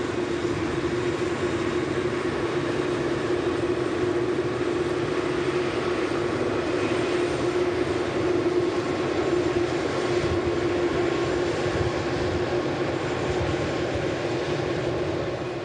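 An Emirates Airbus A380-800 passenger plane at Manchester Airport produces a loud, continuous jet engine roar with a steady drone, sustained throughout with no talk over it.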